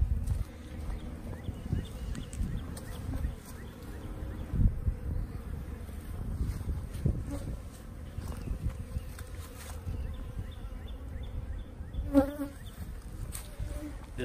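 Honeybees buzz at the entrance of a hive in an apiary of about twelve hives. A steady, moderately close hum of many wings carries on throughout, with occasional louder passes as single bees fly close by.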